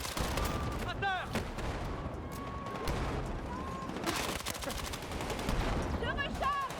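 Gunfire in the video game Battlefield 6, rapid overlapping bursts and scattered shots echoing across a busy battlefield, with in-game voices calling out over the steady crackle.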